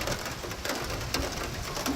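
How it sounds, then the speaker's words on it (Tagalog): Rainwater drips and patters through a leaking house roof during rain, a steady broadband wash with scattered drop hits throughout, while birds coo faintly in the background; no one speaks. "So nagatulo gyud ang tubig Ato man ano. tungod sa ulan."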